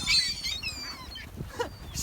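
Geese or ducks at a lakeside beach being fed bread, giving brief scattered honks and calls near the listener, with faint background noise and no clear talk.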